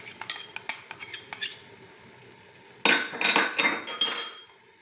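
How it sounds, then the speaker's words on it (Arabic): Metal utensils clink against a pot while lentil dish ingredients, including grated tomatoes and a grated small pepper, are mixed: a run of sharp, separate taps, then a louder burst of scraping and stirring clatter up close, with no talk. "وكنخلطو كلشي هاد المكونات"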